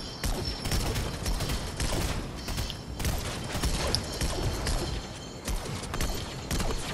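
A video game shootout gives off bursts of gunfire with clattering mechanical sounds, fairly dense and continuous at a steady loud level, with no clear talk over it.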